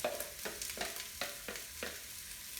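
Vegetables sautéing in a soup pot on low to medium heat, a soft, steady sizzle broken by a few brisk stirring scrapes at regular intervals, heard close but quiet.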